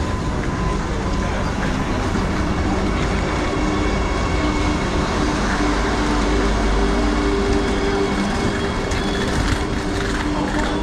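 A Vande Bharat Express at Borivali station rumbles loudly and continuously with a low rolling roar, faint rail clatter and a steady broadband wash close by, with background voices mixed in.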